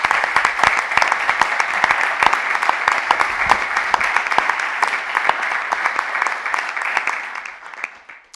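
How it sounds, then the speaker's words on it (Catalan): Warm, dense applause from an audience at an electoral debate in the Orfeó Gracienc hall, steady clapping with scattered sharp claps that fades out toward the end. "Jo crec que es mereixen un aplaudiment."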